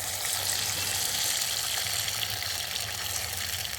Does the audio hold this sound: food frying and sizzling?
yes